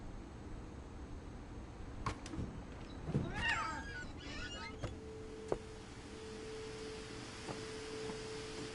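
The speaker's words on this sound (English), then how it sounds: "It's a cat." A cat meows in the game What Remains of Edith Finch: a few short, quiet, wavering calls in a row, heard over a soft, steady ambient hum, with a faint tone lingering afterward.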